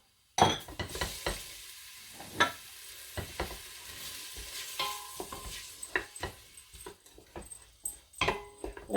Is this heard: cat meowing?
no